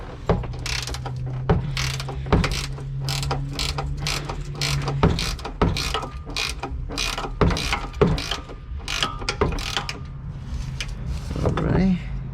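13mm ratchet wrench loosening a muffler hanger bolt on an exhaust system, a steady series of sharp, evenly spaced clicks up close, with someone talking over parts of it.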